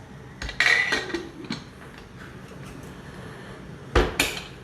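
A Prestige pressure cooker lid clanks metallically as it is set and shut, with a couple of sharp clatters early and another pair of knocks near the end, fairly close.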